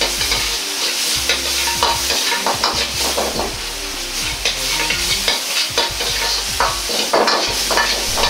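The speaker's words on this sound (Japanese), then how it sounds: "肉がパチパチと弾ける音を立て" Steady, dense sizzling and crackling of ground meat frying in a pan for mapo eggplant, with occasional stirring scrapes throughout, close and fairly loud.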